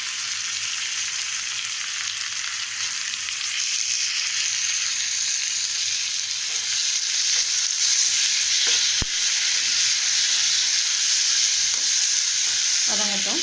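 Tomato gravy with salt and turmeric sautéing in a pan gives a continuous loud hiss of frying, close and steady, with a few soft stirring knocks near the end.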